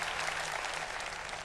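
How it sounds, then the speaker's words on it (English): An audience claps in a standing ovation, a dense, steady wash of applause from a crowd filling the whole moment, loud and continuous with no voices on top. "And as they stand there embracing, the audience claps"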